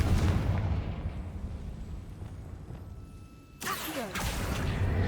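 A Confringo fire spell in Hogwarts Legacy erupts in a loud rumbling blast after a quieter fading roar, with a sharp crackling burst and sustained fiery rush afterward, no talking.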